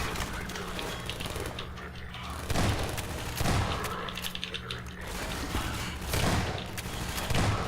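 Combine soldiers fire repeated bursts of gunfire during an attack in the Half-Life 2 video game, loud and near, with rapid shots and booms that continue throughout.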